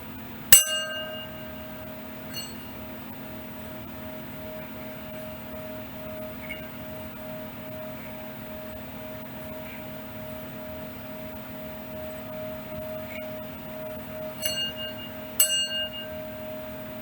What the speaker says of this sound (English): when I was ringing the bell